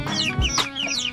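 Chickens cluck and squawk in quick bursts, close and lively, several birds overlapping in a brief moment.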